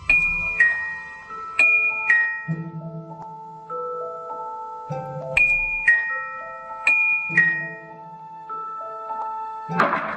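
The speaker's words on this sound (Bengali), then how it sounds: "কিছুটা দ্বিধাগ্রস্ত ভাবে কলিং বেল টিপল" A doorbell chime plays a melodic electronic tune as a radio drama sound effect. The clear tones ring out alone and repeat several times in sequence.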